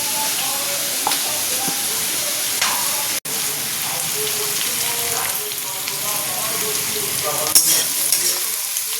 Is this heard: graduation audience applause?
no